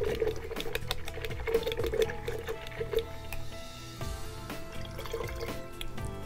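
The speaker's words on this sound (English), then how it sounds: "And rinse our brush off really good." Paintbrush swished and rinsed in a water container during a poppy painting session, with small drips and clinks repeating in quick bursts, then steadier gentle sloshing, close and fairly quiet.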